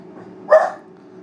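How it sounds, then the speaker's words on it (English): A dog gives a single short bark in a kitchen while a pie bakes, heard at moderate distance above a low steady hum. "you can hear barking"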